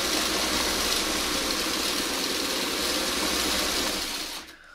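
Sewing machine stitching fabric for a Y seam, a fast continuous mechanical whir running steadily and close before stopping at the end.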